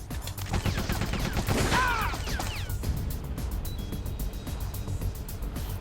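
A loud burst of gunfire in Metal Gear Solid: The Twin Snakes, clustered shots with a crash-like impact, then quieter clatter that fades out. No one speaks.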